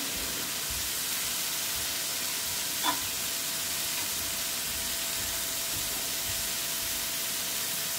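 Shredded cabbage frying in a pan with chilli flakes and mixed herbs, a steady, even sizzle throughout with a single brief stir or clink partway through, no voices.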